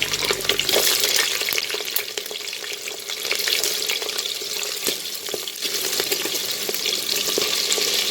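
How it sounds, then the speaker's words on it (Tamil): Onion and garlic sautéing in oil in a pan for a Catla fish kulambu, a continuous loud sizzle with scattered utensil scrapes and clicks, no voices. "அடுத்து வெங்காயம் வெள்ளைப்பூடு போட்டு நல்லா வதக்கிக்கலாம்."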